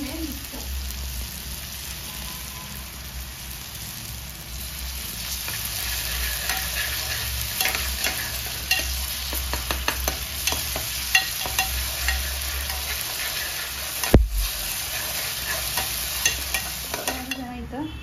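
Onion frying with ginger, garlic and green chili paste gives a continuous sizzle with repeated scraping and stirring, broken by one sharp clank near the end, and no talk.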